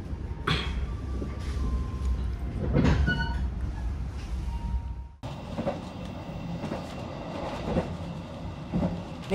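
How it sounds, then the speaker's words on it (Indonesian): Indonesian KA Serayu economy-class passenger train pulling out of Cikampek station, heard from inside a carriage: steady low rumble and rattling wheels with faint clicks, a brief dip then louder rolling noise as it gathers pace. "Ini keretanya udah berangkat dari stasiun Cikampek, teman-teman."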